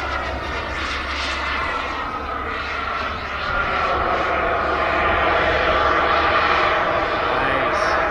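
A giant radio-controlled jet roars overhead, its turbine howl loud and sustained, swelling slightly as it passes and holding a steady high whine throughout.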